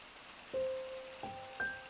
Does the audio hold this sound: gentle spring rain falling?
yes